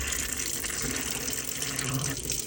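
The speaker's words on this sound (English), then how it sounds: "You'll then come to the actual sink itself and turn your tap on." Water runs from the tap into the sink of a 2019 Adria Sunliving caravan, a steady close hiss and splash that stays constant and loud throughout.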